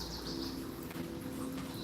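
Wild birds gathering to feed outside a window give soft coos and faint chirps over a steady background hum, distant and quiet.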